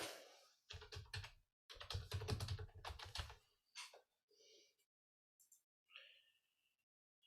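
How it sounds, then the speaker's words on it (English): Typing on a computer keyboard, close and fairly quiet, with bursts of rapid key clicks separated by short pauses and a few isolated taps near the end. "Gonna have to type this in."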